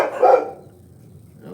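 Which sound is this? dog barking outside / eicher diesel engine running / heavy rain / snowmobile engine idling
dog barking outside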